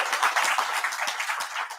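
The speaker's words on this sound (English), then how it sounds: "A round of applause, I think that's worth." A short burst of applause from a small crowd, steady clapping with no talking over it.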